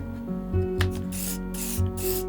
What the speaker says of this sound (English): I give a little spray around the edges and I cut off the excess